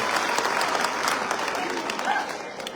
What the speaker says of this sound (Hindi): तो एक बार जोर से तालियां धनराज पुजारी के लिए।